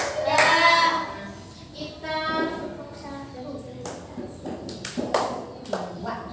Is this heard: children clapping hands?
yes